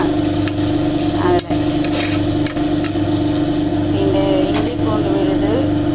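Hand-pounded ginger garlic paste sautéing in a pan for channa biryani. A loud, close sizzle runs throughout, with repeated scraping and clacking stirring strokes on top.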